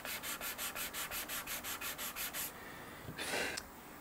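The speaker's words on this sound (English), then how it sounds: "I know this headstock needs sanding" Hand sanding on the wooden headstock of a Ceres Theta guitar build, a steady run of about a dozen rhythmic abrasive rubbing strokes close up, then a longer, softer scrape alone.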